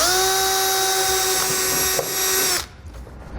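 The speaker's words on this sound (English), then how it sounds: "Next I'm going to take a small drill bit and drill a pilot hole first." A small bit bores a pilot hole in a trailer hitch during a wiring-kit install; a high, whining power drill runs steadily for over two seconds, then cuts off sharply into quiet.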